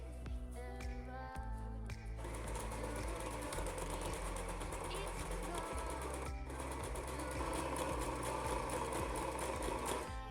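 A sewing machine stitches the pinned side seams of a pair of shorts, its needle hammering in a fast, steady mechanical rhythm, close and continuous with no pauses or talk.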